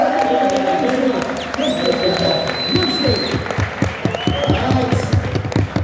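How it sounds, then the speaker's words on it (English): A live audience at a Q&A event applauds loudly, a dense wash of clapping and crowd noise with some cheering, while a few voices call out above it. "Ladies and gentlemen, please, a round of applause for"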